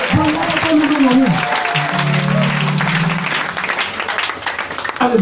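A church congregation at an Easter service claps and cheers in praise, with sustained applause running underneath loud speaking and singing voices and fading toward the end.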